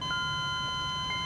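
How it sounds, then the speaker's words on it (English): An electronic vitals monitor in the back of an ambulance gives a steady tonal beep, a sustained electronic tone with a faint pulse, heard alone. "the vitals monitor in the back beeped hard"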